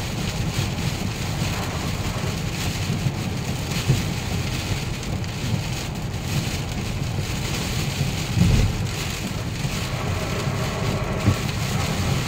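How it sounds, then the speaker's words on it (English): Heavy rain during the Hurricane Irma landfall in Pasco County, Florida, a steady loud roar of downpour with wind buffeting and a few low gusty thumps. "Rains are becoming heavier."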